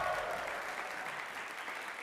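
Audience applause for a university jazz ensemble at a fall concert, a steady, dense wash of many hands clapping that holds at an even level for the whole stretch.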